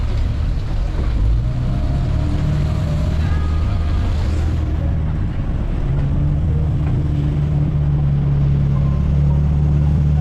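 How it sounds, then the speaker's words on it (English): Jet boat engine roaring steadily across Sydney Harbour, a loud continuous low drone with wind buffeting the microphone throughout. "This boat goes really fast and spreads through the wave."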